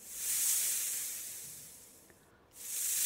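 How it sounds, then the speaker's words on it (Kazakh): A snake gives a steady, breathy hiss that swells early, thins out briefly near the end, then returns at full strength. There are no voices. "Ал жыланның дыбысы қандай екен?"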